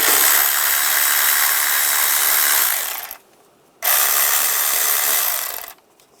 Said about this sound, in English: Using a 10mm socket, we're going to loosen up the worm clamps.